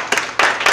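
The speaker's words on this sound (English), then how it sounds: "Give a round of applause to everybody who came up here" Audience applause at a theatre showcase for performers, with bursts of clapping from a crowd arriving in short waves.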